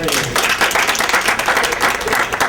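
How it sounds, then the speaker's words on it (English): Dense, steady clapping from an audience, a continuous patter of many hands filling the whole moment, with a faint murmur of the crowd underneath. "Clap your hands for Bradley, ladies and gentlemen."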